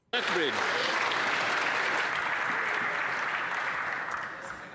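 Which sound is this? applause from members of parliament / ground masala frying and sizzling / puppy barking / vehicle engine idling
applause from members of parliament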